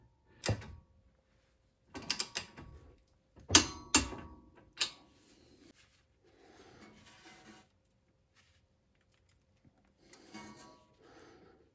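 A wrench ratchets and clicks in short bursts while a steering tie rod lock nut is tightened, the sharp metallic clicks spaced out between quiet pauses, close and fairly faint with no talking.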